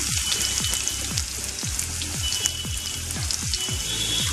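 Potatoes and spices sizzle steadily in hot oil in a pan for a keema ghughni, a dense continuous crackle with recurring lower swooping tones underneath, no talking.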